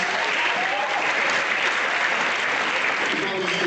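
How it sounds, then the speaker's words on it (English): Steady, dense applause from a large crowd at a university convocation ceremony for postgraduate degrees, a continuous even roar of clapping heard without pause throughout, with a faint voice mixed in. "We need to clap very well for this."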